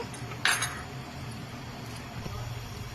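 A spoon scrapes and clinks once against a metal pot while rice is stirred for chicken biryani, then soft stirring continues faintly over a low background hum.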